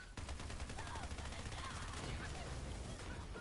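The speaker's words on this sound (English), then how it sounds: "Oh, nope, they're shooting me." Enemy gunfire from a Borderlands 3 firefight crackles in rapid, dense bursts, loud and continuous for about three seconds.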